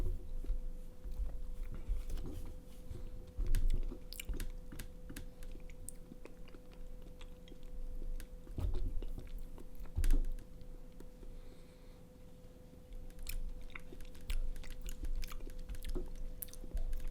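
Someone chews rice close to the microphone, soft wet bites and crunches repeating in an irregular rhythm over a faint low hum for several seconds.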